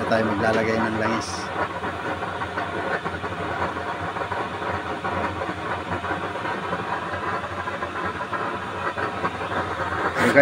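A blower feeding a homemade waste-oil stove burner runs with a steady, loud hissing roar throughout, while someone talks over it for most of the stretch.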